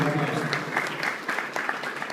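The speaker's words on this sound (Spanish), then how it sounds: "Un aplauso para Fernando Mejía" Audience applause at an energetic business talk, a dense patter of clapping hands throughout, moderately loud and fairly close.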